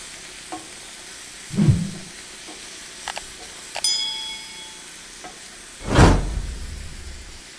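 Passata tomatoes poured into a hot pan while cooking chili for Coney Island chili dogs, giving two short hissing sizzle bursts among scattered metallic clinks and one ringing clang of cookware, close up with no talking.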